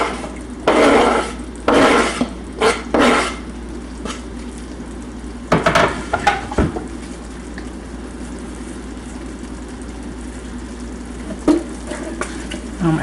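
Minced garlic sizzles in a hot pan for baked spaghetti sauce, with a steady frying hiss broken by several scraping stirring bursts, close and fairly loud.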